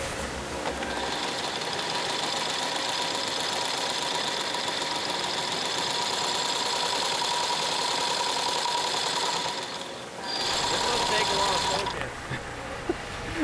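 A 1960s stitching machine, once steam-driven, sews Moc Toe boots in a Maine workshop with a steady, rapid mechanical whir and clatter that runs continuously, briefly dipping near the end, fairly close with no talking.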